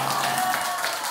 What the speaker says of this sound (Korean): 야, 우리 격려의 박수.